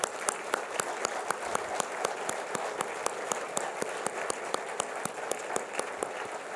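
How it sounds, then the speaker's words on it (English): A standing audience at a national financial inclusion strategy launch applauds steadily, dense clapping with sharp individual claps cutting through at a fairly even rhythm for several seconds. "I don't know whether we can get on our feet and just applaud Tamara Cook"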